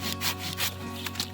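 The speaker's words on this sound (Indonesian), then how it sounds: "Terus kita gergaji." A hand saw cutting through a tree branch during top working, with steady back-and-forth strokes rasping through the wood at close range, about five strokes in quick rhythm.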